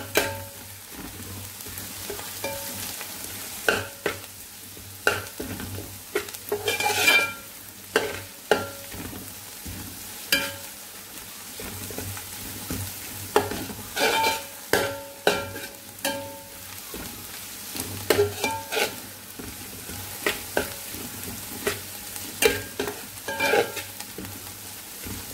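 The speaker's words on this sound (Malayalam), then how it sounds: "ഇനി ഈ തേങ്ങയും പച്ചമുളകും സവാള എല്ലാം കൂടെ ഇതിനകത്ത് കിടന്ന് നന്നായിട്ട് വരണ്ട് വരട്ടെ" Grated coconut, green chillies and onion frying in a pan for a spicy Kerala-style beef curry: a low, continuous sizzle broken by repeated clattering scrapes of a spoon stirring against the pan, with no voices.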